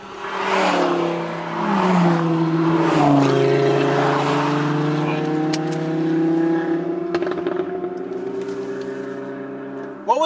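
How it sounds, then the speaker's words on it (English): Cars come up fast from behind runners on a road, the engine whine holding steady and loud with shifting pitch as the vehicles close in and pass. "You got cars coming fast behind you."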